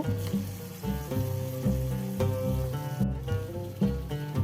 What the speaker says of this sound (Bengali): এরপরে আমি লাউ যে টুকরো করে রেখেছিলাম ওই টুকরোগুলো ব্যাটারের মধ্যে এইভাবে চুবিয়ে ভেজে নেব